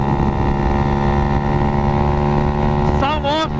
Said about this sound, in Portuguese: Essa moto tá muito forte, mano